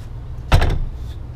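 An outdoor storage compartment door on a 2021 Cyclone 4005 toy hauler RV is opened, giving a single close latch clack and a short rattle with no talking.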